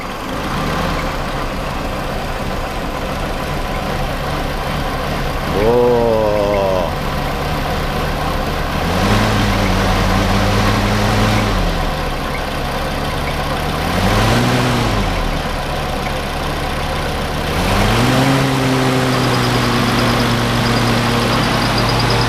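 A Willys CJ2a Jeep engine that is blowing smoke runs at a loud, close idle, then revs up and falls back several times in distinct swells before settling again.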